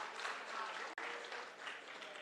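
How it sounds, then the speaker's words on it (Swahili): Brief burst of applause from a crowd at a public budget and privatization forum in Eldoret, Kenya, steady clapping throughout with a tiny dropout partway. "Ya mwisho, simpigie makofi treasury team yote."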